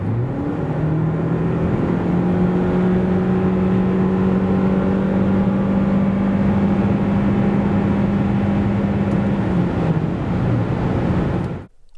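A Toyota Corolla Cross 2.0 hybrid with a 180 hp powertrain pulls hard from about 90 to 140 km/h, a steady rising engine drone with road and wind roar that holds loud and continuous before cutting off at the end.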